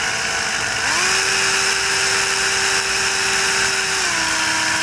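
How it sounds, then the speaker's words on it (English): A power drill boring a hole in luggage whines loudly and continuously, its pitch rising as it spins up, holding steady, then dropping slightly near the end. "you have to make a hole using your drill bit"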